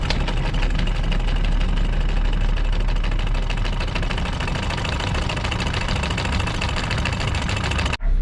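A boat engine idles steadily and loudly throughout as the anchor is raised, a constant rumbling drone with a faint rattle, cut briefly near the end.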